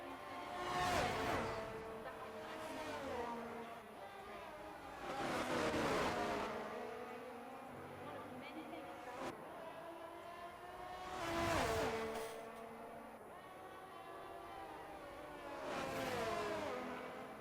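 Race cars in an F1-style sim racing qualifying session at Brazil roar past in repeated engine swells, each rising and fading as a car passes, with a steady engine drone between them.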